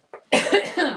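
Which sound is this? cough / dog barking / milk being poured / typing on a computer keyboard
cough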